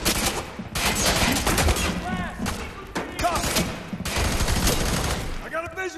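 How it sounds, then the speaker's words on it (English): Bursts of automatic gunfire in the shooter game F.E.A.R. 3 rattle in repeated volleys of covering fire, loud and close, with voices and game sounds between the bursts. "Lay down covering fire."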